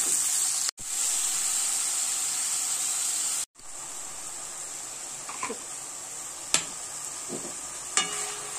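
Onions frying in mustard oil with bay leaf and dried chilli, a loud continuous bright sizzle that cuts out briefly twice, with occasional utensil clinks and stirring scrapes close by, and no talking.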